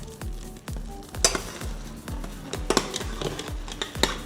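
A cream sauce sizzles in a pan while a utensil stirs it, scraping in a steady rhythm of strokes about every half second with clinks of metal and a constant bubbling hiss, close up, no talking.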